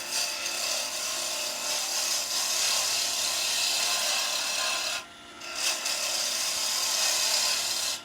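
A pen blank being roughed down with a gouge on a wood lathe gives a steady, loud, continuous hissing rasp that breaks off briefly near the end and then resumes.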